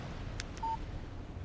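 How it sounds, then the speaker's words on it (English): A short electronic tone from a phone in the Alan Wake video game signals an incoming text message, a single clean beep over a low steady background hum. "Text message from Barry"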